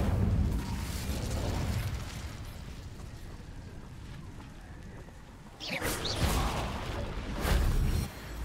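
Incendio fire spell cast in Hogwarts Legacy, a roaring whoosh of flame bursting out with a heavy rumble, then further fiery surges and pops, loud and close.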